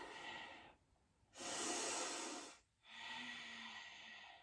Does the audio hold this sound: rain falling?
no